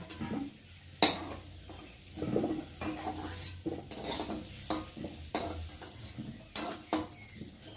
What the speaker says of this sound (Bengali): আলুটাকে ভালো করে প্রথমে ভেজে নিয়েছি। দেখতে পাচ্ছি আলুটা ভাজা ভাজা হয়ে গেছে।